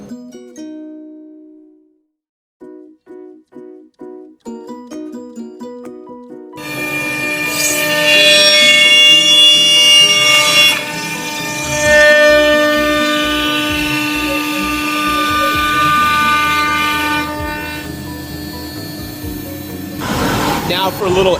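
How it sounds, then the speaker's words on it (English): A Laguna IQ CNC machine cuts a shape out of a Powell Peralta skateboard blank, a loud, steady roar with sustained whining tones that runs continuously after a few seconds of quieter, separate tones. "This is a Laguna IQ CNC machine, and I've got my Power Peralta blank in there. And I'm gonna go ahead and cut out this shape right here"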